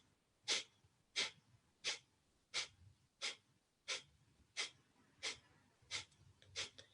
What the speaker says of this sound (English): exhale through the nose as if you are blowing out a candle, and your belly is going in with each exhale